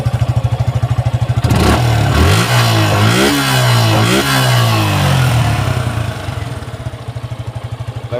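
A Suzuki Gixxer SF Fi ABS motorcycle in near-new condition idles with a steady thump, then is revved hard several times in quick rising and falling surges before dropping back to idle, loud and close.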